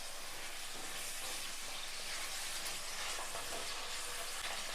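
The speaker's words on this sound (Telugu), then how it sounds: "ఆయిల్ అంతా పట్టే వరకు ఇలా వేయించుకోవాలండి ఒకసారి." Eggplant curry pieces fry in oil over a high flame, giving a steady, close, broadband sizzle and crackle that continues without a break.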